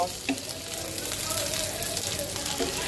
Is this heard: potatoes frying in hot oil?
yes